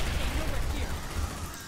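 Gunfire from the video game Aliens: Dark Descent, a loud, dense and continuous burst of shots with a constant low rumble, mixed under speech throughout.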